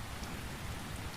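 Rain falls steadily as a dense, even hiss of drops on surfaces, soft and constant with no other sounds.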